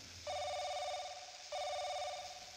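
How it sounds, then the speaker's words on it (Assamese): A telephone bell rings twice in steady, evenly spaced bursts, clear and fairly close over a quiet background. "মাজে মাজে ফোনৰ টিলিঙা বাজে"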